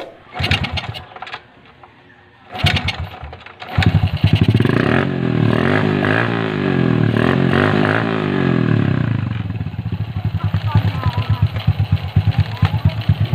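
A motorcycle engine being diagnosed for a spark plug fault starts after a few sputters, then runs with an uneven, rhythmic chugging idle up close, with brief revs and someone speaking over it.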